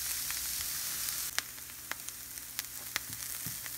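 Stuffed bitter gourd sautés with spice powders in a hot pan, giving a soft, even sizzle with a handful of sharp clicks and scrapes from stirring, quiet and close, no voices.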